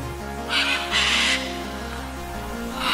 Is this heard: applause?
no